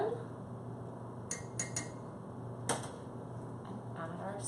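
A spoon clinks against a cup while stirring syrup into a coffee flour latte, a few light, sharp taps over soft background hum, close and fairly quiet.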